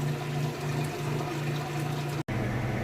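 Kenmore washing machine draining water, a loud steady pump hum with a watery wash over it, briefly cut off near the end before resuming.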